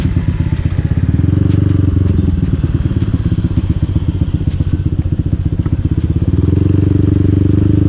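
Yamaha Aerox scooter bored and stroked up to 240cc, ridden on the road, its engine putting out a steady loud low drone with rhythmic pulsing and clatter throughout, close to the mic.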